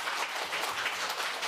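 An indoor film Q&A audience bursts into applause: a short, dense spell of many hands clapping together, fairly loud and continuous, with no talking over it.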